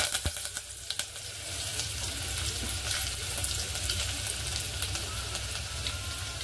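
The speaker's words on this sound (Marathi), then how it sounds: "तर आपण तेल पण गरम झाले, तर लसूण टाकूया तेलामध्ये फटाफट। हा कढीपत्ता टाकूया," Crushed garlic and curry leaves sizzle steadily in hot oil, a continuous close frying hiss with a few small pops and clinks at the start, no talking.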